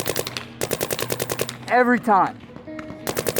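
A Planet Eclipse GEO 3 paintball gun fires close by in rapid bursts of sharp pops, broken by a short spoken phrase in the middle before a final quick burst of shots.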